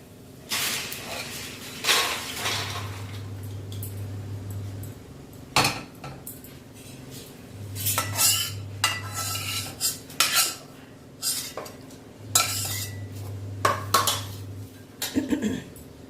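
A roasting jaggery sweet mixture is flipped and scraped in a pan, giving irregular clattering bursts of utensil against metal. A low steady hum recurs between the scrapes, and the sounds are near and moderately loud with quiet gaps.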